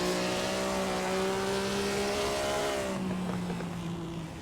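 A race car engine drones steadily at high revs while driving in a racing simulator video game, the pitch holding level and then dropping as it shifts near the end, loud and close with no talking.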